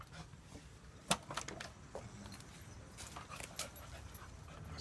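An excited dog inside a car gives off scattered whimpers, yips and panting, with a sharp louder bark-like burst near the start and steady close vocal noise over low road rumble.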